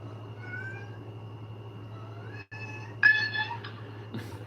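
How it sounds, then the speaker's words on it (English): A house cat meows a few times near the end, short bright calls rising over a steady low hum in a quiet room. "You hear my cat."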